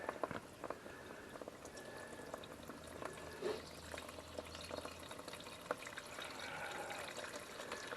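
Thin old oil-gas mix runs steadily out of a Cub Cadet 524 snow blower engine into a drain pan, a continuous trickling, splashing wash of liquid heard up close without talk.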